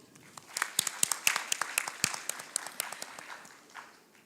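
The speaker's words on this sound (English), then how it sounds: "A huge round of applause for all of you." Audience applause for the finalist teams at the Tata Steel Steel-A-Thon Season 11 finale: dense, moderately quiet clapping with sharp individual claps standing out, holding steady for several seconds before thinning toward the end.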